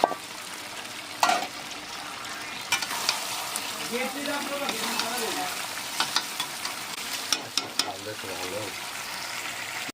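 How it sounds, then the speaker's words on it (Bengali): Potatoes in spiced masala for aloo dum sizzle steadily in a pan, with occasional stirring scrapes and clinks and light talk underneath. "এই যে আলুর দমের মশলার মধ্যে আলু চলে গেল"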